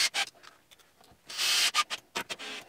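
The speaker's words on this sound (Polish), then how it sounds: "Tak, dwa wkręty i kręcimy." Hinge screws being driven into an MDF cabinet front, short close scraping and rubbing bursts of screwdriver turning with a longer grinding stretch midway, uneven and intermittent.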